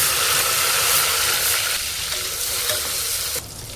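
Chopped onion and tomato sautéing in a pan, a steady dense sizzle with stirring noise running throughout, close and loud, easing slightly near the end.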